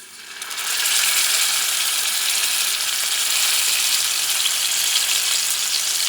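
A steak sears in a hot pan, salted side down, for a steak au poivre: a loud, steady broadband sizzle that swells in during the first second and then holds evenly throughout, with no voices.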